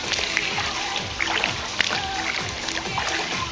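Water splashes and sloshes continuously in a pool during aqua aerobics jumping jacks, a busy, fairly loud churning of many bodies moving in the water, with faint voices underneath.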